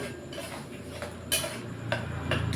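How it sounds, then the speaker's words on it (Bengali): A spoon stirs boiled potatoes in a pan of vegetarian potato curry with sugar and fried spice mix just added, giving soft irregular scraping and clinks, near and moderately quiet. "ভালো করে একটু নেড়ে নেবো।"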